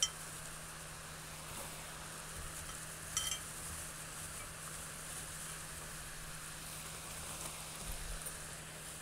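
Potato fries deep-frying in hot oil give a steady, quiet sizzling hiss over a low electrical hum, with a couple of brief louder crackles and no one talking.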